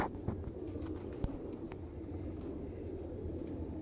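An old teddy pigeon, around 19 to 22 years old, coos softly in low, repeated murmurs beneath faint background rumble and a few scattered clicks.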